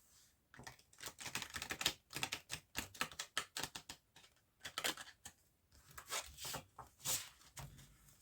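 Deck of tarot-style cards being shuffled by hand, several quick bursts of riffling and flicking paper clatter separated by short pauses, close and fairly quiet with no talking.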